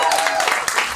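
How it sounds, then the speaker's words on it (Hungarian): An audience at an improv theatre show in Pécs claps steadily in dense, continuous applause, with a voice speaking over it. "egy nagy tapsot"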